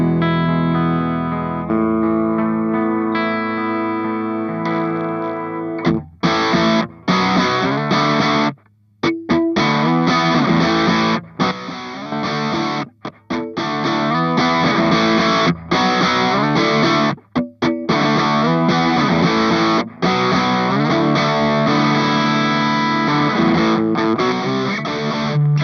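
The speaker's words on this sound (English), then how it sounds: "This is Raul Ibanez, my Ibanez AS100 from the year 1981. All stock, and it sounds like this" Stock 1981 Ibanez AS100 hollow-body guitar with humbuckers, driven through a ProCo RAT distortion pedal, playing heavily distorted chords and riffs with brief stops between phrases, loud, close and alone.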